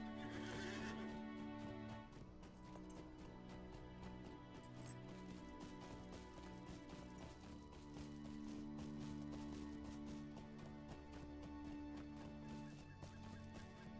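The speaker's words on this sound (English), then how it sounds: "Let's get on our horse, though." Horse neighing, then clip-clopping hooves in the Lord of the Rings Online video game, heard under steady background music at a low level.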